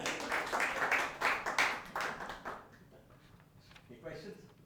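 A lecture audience claps in a short, modest burst of overlapping hand claps that fades after a couple of seconds into quiet room sound and a faint voice.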